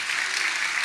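Loud, sustained clapping from a congregation at a church convention, a thick unbroken roar of many hands.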